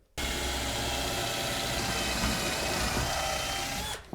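A power drill whirs continuously for several seconds, boring into wood, then cuts off abruptly.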